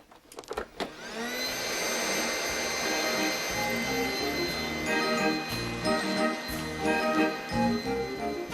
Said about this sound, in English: it's billed as the world's first fully automatic robot vacuum cleaner